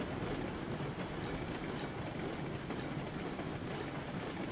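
A train rolling on rails in the RailRoads Online video game gives a steady, dense rumbling roar with a faint rhythmic undertone, continuous and fairly close, with no talk.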